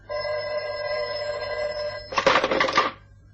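An old-fashioned telephone bell rings in a steady tone for about two seconds, followed by a short burst of clattery handling noise as the receiver is picked up, set in a vintage radio drama.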